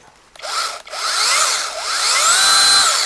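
A Jiapu cordless chainsaw whirs up after a brief click, its high motor whine rising and holding steady, close and loud, with no voices.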